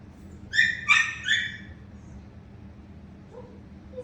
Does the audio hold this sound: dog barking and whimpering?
yes